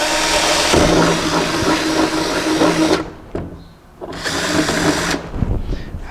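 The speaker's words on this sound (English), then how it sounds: "Also drill here." Cordless battery drill set to forward drive bores holes into a concrete wall while a wooden cabinet is being mounted, giving a loud steady whine in two long bursts with a short pause between them.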